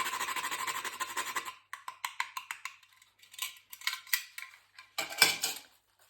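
Grating an ingredient by hand for a cashew and Cajun spice meatloaf, a rough continuous rasp at first, then a series of separate short scraping strokes with small gaps between them, close and clear.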